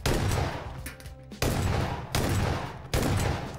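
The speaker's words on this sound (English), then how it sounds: "It's time to talk about the auto shot of the S12K." An S12K shotgun fires on full auto in PUBG, loud heavy blasts in close succession, four sharp booming shots spaced unevenly with ringing decay between them, nothing else audible.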